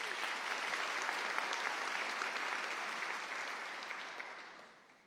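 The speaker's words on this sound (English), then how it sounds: "let's give another round of applause to our bigger supporters" An audience applauds at a pharmacy doctoral hooding ceremony, sustained dense clapping filling a large hall, steady and strong before fading out at the close.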